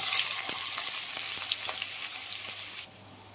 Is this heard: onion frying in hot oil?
yes